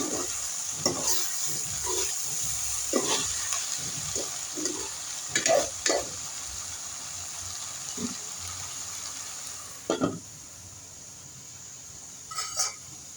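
Onion stalks sizzle steadily in a frying pan while a utensil stirs them, giving intermittent scraping strokes over the constant hiss, with no talking.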